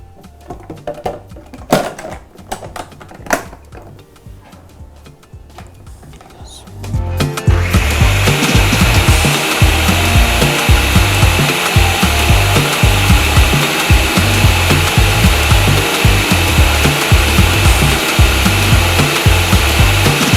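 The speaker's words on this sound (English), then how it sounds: "Right now, I want to blend my egusi so that we can start preparing our soup" A kitchen blender whirring egusi seeds with water, starting abruptly after several seconds of quiet clatter and then running loud and steady without pause.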